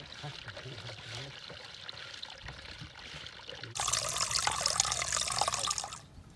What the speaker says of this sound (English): so we got to hold this down while Dave pumps out the water